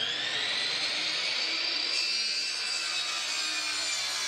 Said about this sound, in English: I just went ahead and used my table saw because I needed to cut down the width of it